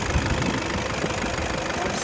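A Nissan D40 diesel engine idles close by with a steady, loud rumble and a light knocking clatter throughout, and no talk over it.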